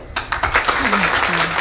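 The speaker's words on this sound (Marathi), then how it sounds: "एकदा भाकरी खाल्ल्यासारख्या टाळ्या वाजवा ना." Audience applause at a live spoken religious discourse, scattered claps building into a brief ragged round while a voice speaks over it.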